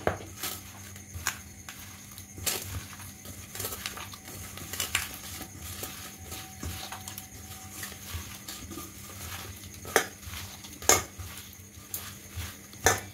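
Soybean chunks are mixed with cornflour and chilli powder by spoon in a bowl, producing faint, steady scraping and soft clinks with sharper taps scattered throughout, close and quiet, no speech.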